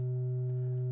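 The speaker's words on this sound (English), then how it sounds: "So there's just the sine wave on B" Steady pure sine tone from an Analog Wave Twister synthesizer module, a single sustained pitch with a faint upper partial, holding evenly and alone for the whole second.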